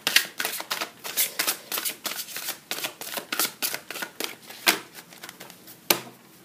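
Tarot cards shuffled by hand nearby, giving a quick run of crisp riffling flicks in uneven bursts, with a sharper snap near the end and no talking.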